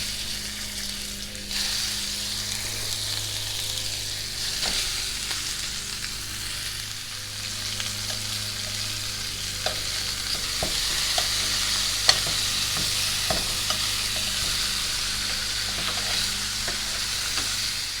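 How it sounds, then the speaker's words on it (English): Ribs braise in a pan with a steady, loud sizzle and crackle that continues throughout, broken by occasional soft clicks and stirring knocks, and no voices. "Okay, now we're going to braise these."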